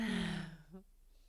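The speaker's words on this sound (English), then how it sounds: "Maybe taking a big yawn like I just did." A big human yawn during a guided relaxation session, a soft breathy exhalation that tapers off quickly and fades into quiet.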